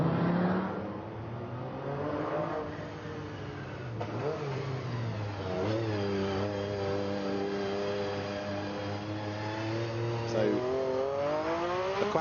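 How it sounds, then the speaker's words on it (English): An Audi Quattro rally car pulls away hesitantly on a rally super special, its engine note rising and settling through gears at moderate distance while a commentator talks over it continuously. "Quattro being driven cautiously"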